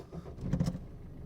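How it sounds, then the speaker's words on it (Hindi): Car engine starting as the driver turns the key, a short burst of cranking and catching around the middle, fairly close, with no talk over it. "तो जैसे कि अब मैं गाड़ी को स्टार्ट करता हूँ,"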